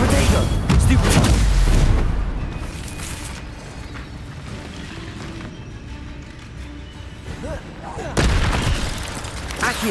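Spell casting in Hogwarts Legacy, heavy booming bursts and crackling magical blasts, loud at the start and again near the end with quieter rumbling between, under a voice calling out spell names.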